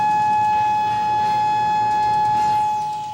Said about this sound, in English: A continuous monotone alarm